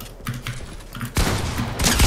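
Rapid bursts of gunfire in a Fortnite match, dense loud crackling shots that build and run on for about a second, with no talk over them.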